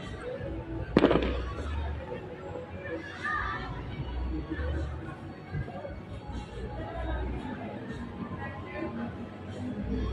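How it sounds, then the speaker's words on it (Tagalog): A sharp firework bang goes off early, followed by scattered distant pops and crackles of firecrackers on New Year's night in Caloocan, with people chattering in the background. "Sabi, paputok daw eh. Diba paputok?"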